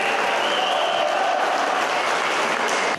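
A hall audience gives a standing ovation, with dense, loud, continuous applause from a large crowd filling the space before it cuts off at the end.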